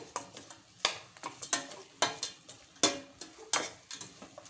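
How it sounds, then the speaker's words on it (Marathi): Grated amla and jaggery cooking on a low flame while a spoon stirs continuously, giving sharp, rhythmic scraping knocks against the pan, close and fairly quiet, with a faint sizzle between strokes and no talking. "सर्व गूळ आणि आवळा कीस छान असा एकत्र शिजवून घ्यायचं आहे छान असा कंटिन्यू फिरवत राहायचं आहे"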